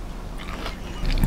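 A close, crisp crunch from a bite into a flaky andagi, a fried doughnut with a crunchy outside and chewy inside, followed by brief chewing.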